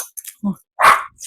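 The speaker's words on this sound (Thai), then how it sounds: "ว้าพี่ลูกจันไม่เห่า" A dog barks once, sharp and fairly close, amid brief household voices in a kitchen where a spicy glass noodle salad is being made.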